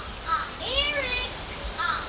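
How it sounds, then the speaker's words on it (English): Injured seagulls call in several short, harsh, wavering squawks, close by, with quiet background noise between calls. "All these seagulls are injured?"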